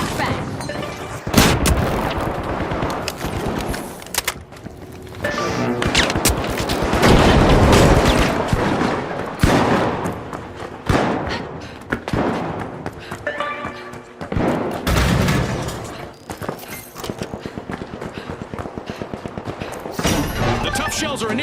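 Gunfire and a flashbang in The Finals, a first-person shooter: loud, dense bursts of shots and heavy thuds rolling through most of the stretch, with short lulls between volleys and game voices faintly underneath.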